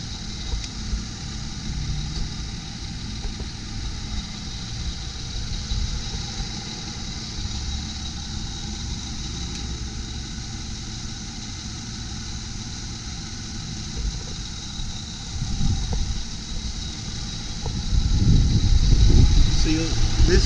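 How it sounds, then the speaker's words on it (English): A 2004 Lexus RX330 engine idles smoothly and steadily, a low constant hum with a faint whine above it, growing slightly rougher and louder with some low rumble toward the end. "Motor's running nice and smooth. There's no roughness."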